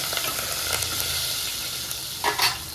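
A pan of dal with drumstick leaves and curry leaves is stirred while it sizzles, giving a steady frying hiss with a few louder scrapes and stirs near the end.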